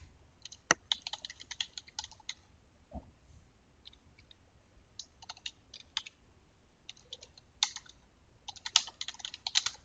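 A line of code is tapped out on a computer keyboard in quick irregular bursts of crisp, close key clicks separated by short pauses, with no voices.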